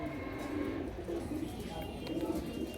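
Pigeons coo softly and repeatedly at a loft where a pair of silver pigeons is kept, low murmuring calls running steadily under faint background noise with brief voice-like sounds mixed in.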